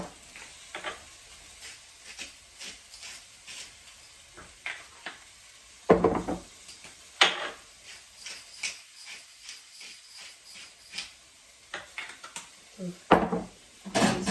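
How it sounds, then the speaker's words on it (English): Food is stirred in a pot in a home kitchen, with repeated scraping and clinking strokes of the utensil and a few louder knocks against the pot, all fairly quiet and close with no talk. "Stir, stir, stir"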